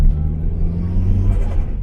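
Low engine rumble from a small, mildly turbocharged car running only 4 PSI of boost and making about 90 kW, heard from inside while cruising at a steady, loud drone with no talk.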